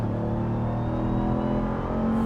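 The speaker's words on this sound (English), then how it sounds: "hitting the launch button right down here, put my foot on the brake, give it full gas, let go." A Ram 1500 TRX pickup with its 702-hp engine makes a launch-control, full-throttle takeoff with some wheel spin: a loud, steady, deep engine roar that holds throughout, close up, with no talking.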